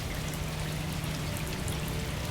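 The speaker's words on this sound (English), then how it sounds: "I just looked out and realized that it's raining." Steady rain falls on a wintry day aboard a Rhine river cruise ship, heard as a continuous close hiss of drops with no voices.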